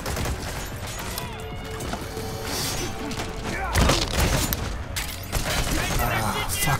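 Gunfire from the video game Metal Gear Solid V: The Phantom Pain crackles in dense bursts and thuds against a busy game soundtrack, with a louder volley near the middle.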